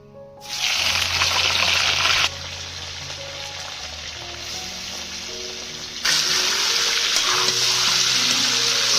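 Chicken meat hitting hot oil with ghee for biryani, a loud steady sizzle that bursts up when the meat goes in, eases back, then surges again, with a low hum underneath.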